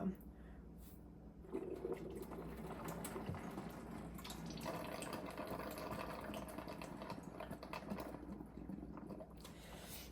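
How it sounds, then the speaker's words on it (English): Water gushes and gurgles out of the bottom hose of a Multipure Aquaperform water filter machine as air is blown through it, a fairly loud, steady rushing flow that runs for most of the stretch after a quieter start. "any water that's inside the machine will come out of this bottom hose"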